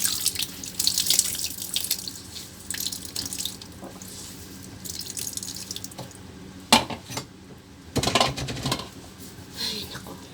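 Tap water runs over vegetables being washed in a sink, a continuous splashing stream broken by clatters of dishes and cutlery and a few louder sharp knocks, close and moderately loud.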